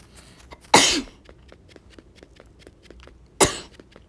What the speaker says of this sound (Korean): 기침이 좀 있습니다